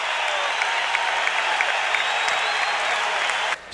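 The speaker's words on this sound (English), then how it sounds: "listen to the crowd" Orlando Magic basketball arena crowd at halftime of a 1989 game against the Pistons, a dense, loud wash of cheering and applause that holds steady before cutting off abruptly near the end.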